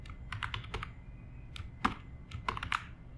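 Keys clatter on a computer keyboard while someone enters a database query in Microsoft Fabric, a quick irregular run of close, crisp keystrokes with short pauses between bursts and a faint low hum underneath.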